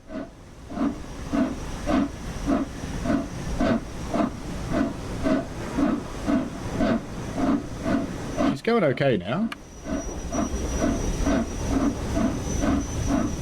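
Flying Scotsman steam locomotive on the East Coast Main Line, chuffing and hissing rhythmically as it gathers speed, loud and close from the footplate, with a brief burst of talk in the middle.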